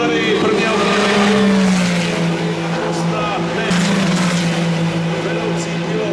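Ferrari Challenge Europe race cars at the Brno circuit, a loud engine note sweeping past with a falling pitch over steady track noise, a commentator talking throughout.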